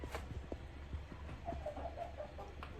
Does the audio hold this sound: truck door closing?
no